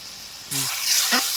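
Potatoes seasoned with salt and turmeric sizzle in a hot pan as they are stirred, a short burst of frying hiss with brief scraping strokes, close and loud.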